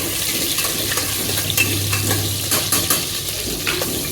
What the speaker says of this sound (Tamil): பச்சை மிளகா வந்து கொஞ்சம் நல்லா வதங்கிடட்டும்.